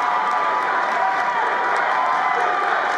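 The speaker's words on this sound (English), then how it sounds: "As the crowd is rolling now." High school basketball crowd roaring steadily in a gym during a game between Farragut and William Blount, a dense continuous wash of cheering and applause with no pauses, loud and close throughout.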